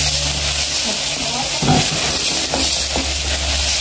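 Tomatoes sizzling in a pan for an omena dish, a loud continuous frying hiss with a low hum underneath and a few scraping stirs, while a voice talks over it.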